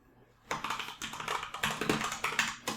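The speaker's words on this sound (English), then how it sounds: "let's type out the words numeric data" Rapid typing on a computer keyboard, with a quick, uneven run of close, crisp key clicks that starts after a brief pause and goes on steadily. No one speaks.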